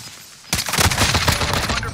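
Gunfire in Call of Duty Warzone kicks in abruptly after a quiet half-second, then rolls on as a dense, loud fusillade of overlapping shots with no talk.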